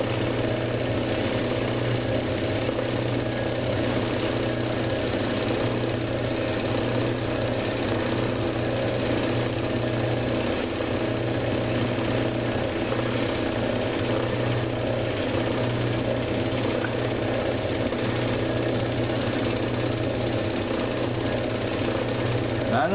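A lapidary machine polishing a stone cabochon hums steadily with a constant motor whir and faint grinding texture, close and unchanging throughout, with someone talking quietly over it.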